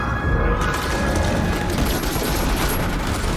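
Heavy sustained gunfire in Fortnite, a dense, loud barrage of overlapping shots and booms that runs steadily from start to finish with no clear gaps.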